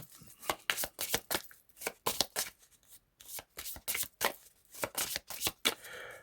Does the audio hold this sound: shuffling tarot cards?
yes